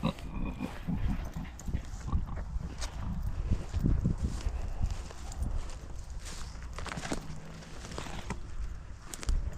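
Low grunts and snuffling from pigs close by in a dry shelter with hay, rustling and shuffling movement, steady and moderately loud, during rain.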